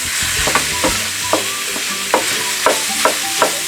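About 350 grams of minced meat sautéing in a pan for a meat pie, a constant close sizzle broken by regular scraping and stirring knocks about every half second.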